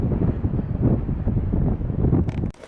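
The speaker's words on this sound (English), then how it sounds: "It's windy though." Strong wind on a high mountain ridge along the Pacific Crest Trail buffets the microphone in a loud, continuous roar, then drops away sharply near the end.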